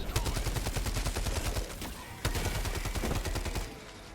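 Coyote assault rifle firing in Helldivers 2, a steady rapid automatic burst of loud, close gunfire lasting several seconds with one heavier blast partway through.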